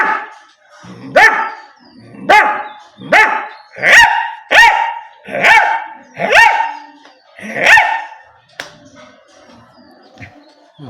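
A human voice imitates big dogs barking: about eight loud, close, deep woofs in a fairly steady rhythm, each swelling and fading, followed by a couple of softer, shorter yelps at the end.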